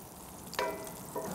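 Soft sizzling and crackling of unsalted butter melting in a hot pan on high heat, quiet and close, with a brief louder spatter partway through.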